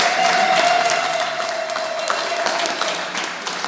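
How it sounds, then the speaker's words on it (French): A church congregation claps together at an Easter vigil, a steady, fairly loud wash of applause that holds for several seconds and slowly thins, with a faint tone sustained underneath. "Applaudissons pour Jésus."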